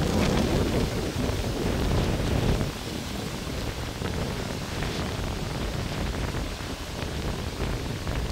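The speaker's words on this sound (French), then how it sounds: "Je sais pas où sont les orages parce qu'il y en a un peu de partout." Steady rain pours through a thunderstorm, with low rumbling thunder rolling beneath a dense, continuous hiss of rainfall; no voices.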